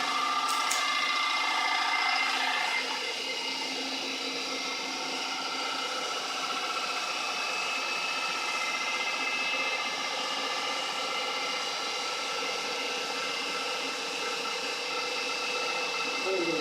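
An AC electric motor spins steadily on an open source controller fed 12 volts, reaching about 1,870 RPM, giving a continuous mid-level whine with tonal hum lines throughout, fairly close and unbroken.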